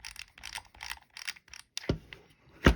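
A Shakespeare fishing reel's drag is tightened, giving a regular run of close ratcheting clicks in quick bursts, followed by two louder knocks.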